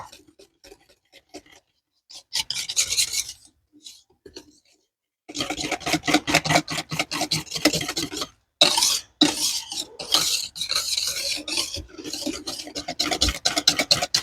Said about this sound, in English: Now we're going to whisk this up until it's smooth